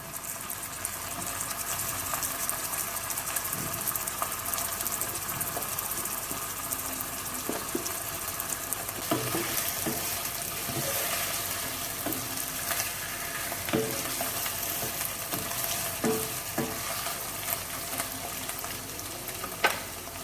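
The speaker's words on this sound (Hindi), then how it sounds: "अब मैं ये इसमें चिकन ऐड कर रही हूँ और इसे थोड़ी देर फ्राई करना है प्याजों के साथ" Chicken pieces fry with browning onions in a pan, giving a dense, steady sizzle. Spatula scrapes and clacks grow more frequent in the second half, close and clear, with no speech.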